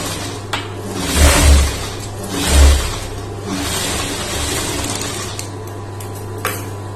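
A sewing machine stitches along the edge of a churidar lining in two short whirring bursts, followed by quieter handling clicks and rustles of cloth nearby, with no talk.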